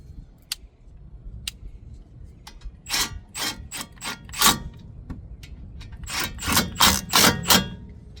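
A socket wrench ratchets on the brake caliper bolts of a Mercedes-Benz GLA during a front pad and rotor change, with a few isolated clicks followed by two close, loud bursts of rapid ratcheting.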